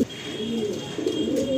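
Pigeons coo steadily and close by in a loft kept for breeding prize birds, their low rolling calls overlapping continuously without any talk.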